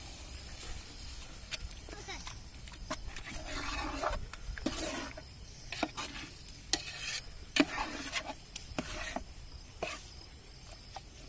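Beaten egg is stirred into softened onions in a pan for drumstick-leaf egg podimas, with a spatula scraping and clattering rhythmically over a low sizzle while a person talks.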